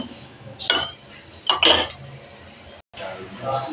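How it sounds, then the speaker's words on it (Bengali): Two eggs being beaten with salt in a bowl, a couple of sharp clinking strokes of utensil against the dish with quieter scraping in between and a brief pause near the end. "ডিমটা আমি এবার লবণের সাথে মিশিয়ে নেব।"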